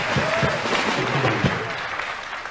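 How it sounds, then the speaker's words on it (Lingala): A large audience applauds loudly at an orchestra concert, a dense, steady wash of clapping that carries on without a break, with a few voices mixed in underneath. "Applaudissez encore très fort."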